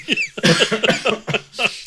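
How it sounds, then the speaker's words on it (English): Several harsh coughs come in quick bursts close to the microphone, one after another, with raspy throat sounds between them. "I'm about to cough as a result."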